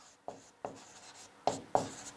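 Pen or marker writing strokes during a class 11 maths lesson on sets, four short scratchy strokes spaced irregularly, close and quiet, with no voice.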